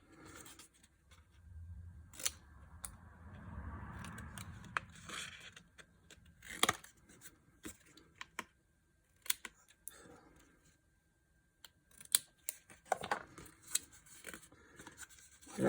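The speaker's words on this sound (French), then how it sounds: "Je vais couper mes onglets" Scissors snip paper tabs in a quiet room, a series of short crisp clicks and cuts spaced irregularly, with soft rustling of paper between them.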